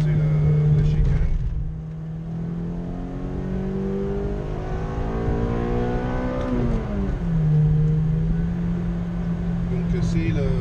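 A Toyota Corolla T-Sport 1.8-litre engine revs up and holds at high revs around 4000–5000 rpm, its pitch climbing and dropping, loud and close, with someone talking over it.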